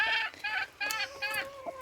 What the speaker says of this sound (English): This chicken makes the worst mum.